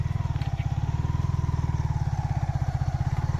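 A motorcycle ridden uphill on a road gives a steady, close, thumping low engine putter with an even rhythm, heard alone without talk.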